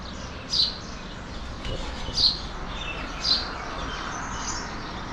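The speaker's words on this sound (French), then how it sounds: "Regardez, les petits oiseaux dans les arbres." Small birds chirp in the trees on a hot early morning at a trail running event on Réunion Island, three short high calls spaced apart over a steady outdoor hiss.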